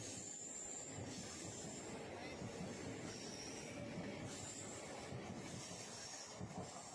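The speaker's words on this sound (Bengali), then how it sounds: "ইতিমধ্যেই শুনতে পেলাম ট্রেনেরও আওয়াজ।" A train heading toward Amta rumbles past with steady broadband rail noise, wheel clatter and a high metallic squeal running throughout, loud and continuous without speech.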